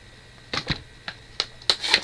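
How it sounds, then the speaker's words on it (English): A knife cutting open a cardboard subscription box, heard as several short, sharp slicing and tearing strokes close up, spaced irregularly, with no talk. "get my handy dandy knife and cut this open"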